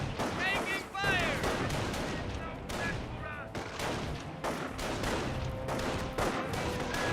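Sustained gunfire and explosions in the Company of Heroes World War II strategy video game, dense overlapping shots and blasts running continuously beneath voices and a commentator talking.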